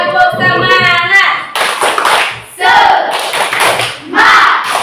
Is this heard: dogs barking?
no